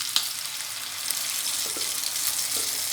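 Tomato paste made from three small tomatoes sizzling and frying in a hot pan for a village-style mash dal, a steady broadband hiss with a few faint clinks, close and continuous with no talk.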